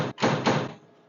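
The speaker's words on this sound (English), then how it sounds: "Oh, I love the way that door shuts." A 1953 Buick Skylark convertible's restored door shuts once with a solid, close thud, then a brief soft settling tail fading into quiet.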